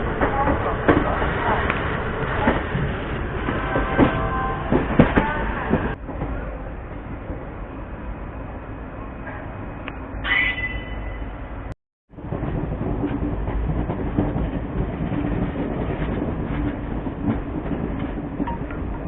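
Kashi Express hauled by a WP7 locomotive passing on Indian railways, a continuous rushing rattle of wagons heard from a moving train, with a brief dropout near the middle.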